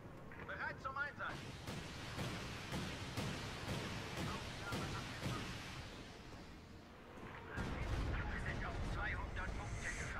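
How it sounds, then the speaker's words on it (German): Artillery barrages and gunfire crack through a Company of Heroes 2 battle, a run of sharp repeated blasts followed by a heavier rumbling wave of impacts, fairly distant and underneath players talking. "Ich setze noch mal ein bisschen Artillerie."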